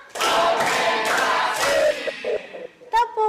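Four rhythmic group hand claps sound close and loud amid a continuous roar of shouting voices, trailing into scattered thumps and a short voice near the end.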